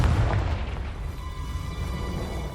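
Hogwarts Legacy's Confringo fire spell bursts in a deep, rumbling explosion that rolls on and fades within game combat, loud and close with no speech over it.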